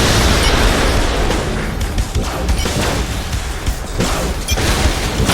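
Continuous loud gunfire and explosions in the video game Saints Row IV, a dense barrage of rapid shots, bursts and booms with no pause across the whole stretch.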